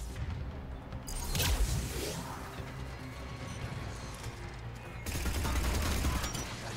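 Gunfire bursts in the video game Mass Effect 3, several loud crashing volleys with a heavy blast near 1.5 seconds and another surge after 5 seconds over steady combat noise.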